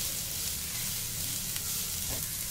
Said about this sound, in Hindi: इसको भी हम थोड़ा सा मिक्स करते हुए सौते करेंगे